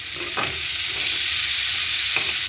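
Onions frying with salt in a pan, a steady close sizzle running throughout, with a few brief stirring scrapes rising above it.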